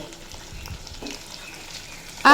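Pumpkin fries in a pan with spices for a Bengali dish, giving a steady soft sizzle that swells into a sharp, loud burst of hissing at the very end.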